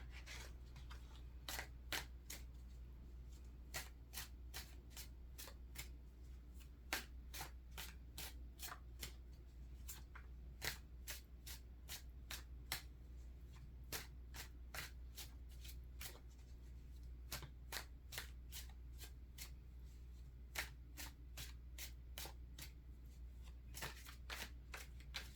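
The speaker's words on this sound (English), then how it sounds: "Now, if any of you think that I take too long to shuffle, that's just fine." Tarot cards shuffled by hand in a quiet room, a long series of crisp riffling snaps repeating irregularly, faint and close, with no talk.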